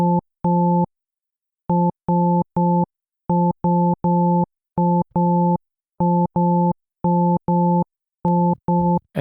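A buzzy synthesized tone built from stacked harmonics sounds in short, evenly spaced bursts, grouped in threes and twos with gaps between, loud and clean with no voices.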